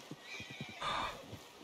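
A horse whinnies in a long, shrill call over a steady rhythm of hoof clip-clops, close but fairly quiet. It follows a cougar attack.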